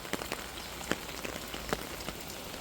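Steady rain patters on a surface, with scattered louder drips standing out against the constant hiss; no voices.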